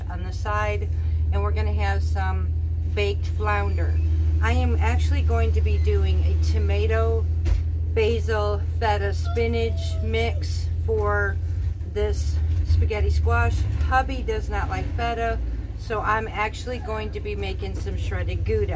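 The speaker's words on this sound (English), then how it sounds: "Sorry about the engine noise, y'all. Again, my husband is trying to fix his dad's truck." A truck engine runs with a constant low drone nearby while it is being repaired, continuing steadily under a voice as she talks through cooking in her kitchen.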